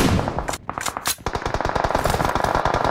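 Rapid automatic gunfire from PUBG Mobile competitive scrim gameplay, loud and close, with dense bursts of shots rattling almost continuously for three seconds.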